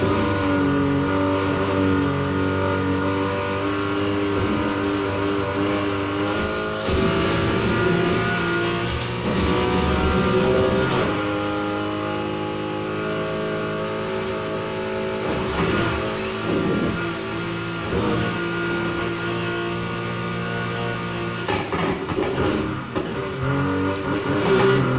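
A 2008 Mitsubishi Lancer Evolution X in the racing game Need for Speed Heat revs and accelerates loudly and continuously, its engine note rising and falling through gear changes with no voices.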